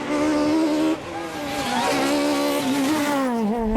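Peugeot 306 Maxi Evo race car screaming at high revs on a Spanish hillclimb, engine note rising and shifting loudly as it passes close, with a brief tire squeal.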